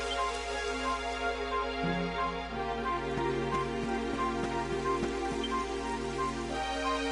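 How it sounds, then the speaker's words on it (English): Rain falls steadily in the Dragon Quest XI video game, a constant close hiss of raindrops over a soft, sustained musical score. "It would have to go and start raining, wouldn't it?"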